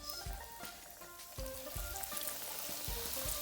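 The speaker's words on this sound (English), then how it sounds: "Okay, oil is come to heat. I'm now going to add my prawns." Prawns sizzling in hot oil, a steady crackling fry with soft pops and spatters, fairly quiet and close, with no talking.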